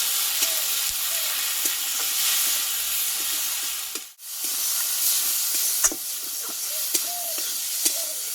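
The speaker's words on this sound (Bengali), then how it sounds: "হলুদ আমি ভালোভাবে কষিয়ে দেবো" Spice paste with turmeric, salt and tomato fries in a pan for a bata fish curry, giving a steady close hiss and sizzle with light stirring taps and one brief lull midway.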